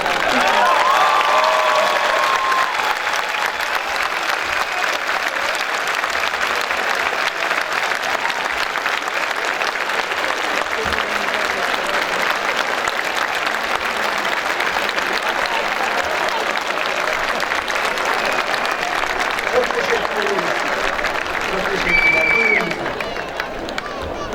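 A large audience at the 2015 Hacettepe University Engineering Faculty graduation ceremony breaks into loud, sustained applause for the graduates' families, a dense, unbroken wash of clapping from the crowd that lasts over twenty seconds.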